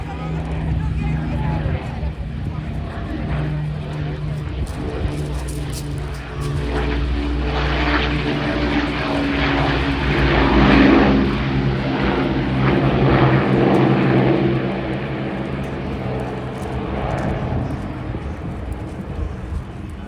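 Battle of Britain Memorial Flight propeller aircraft fly over the Eastbourne Airshow in 2024, a loud, steady, throbbing piston-engine drone that swells and fades as they pass, with a voice talking over it.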